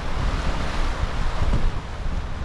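Cold wind buffeting the microphone beside open water on a trip to Saint Petersburg, a loud continuous low roar with gusty surges and no voices.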